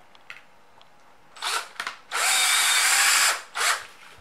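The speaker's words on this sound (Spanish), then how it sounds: "vamos a volver al taladro ahora" Bursts of an electric drill boring into a cork fishing lure: two short whirs, a longer steady run of about a second and a half, then a final brief burst, close and loud with no talk.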